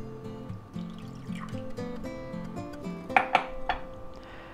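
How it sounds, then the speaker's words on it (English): About 2 ounces of water trickles briefly into a glass, with light clinks of glassware and kitchen clatter, fairly quiet. "we'll take our glass here and we'll put 2 ounces of water in."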